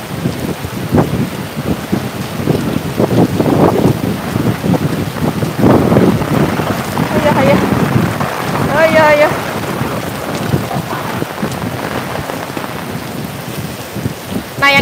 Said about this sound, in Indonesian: Iya, ini hujan angin gede banget.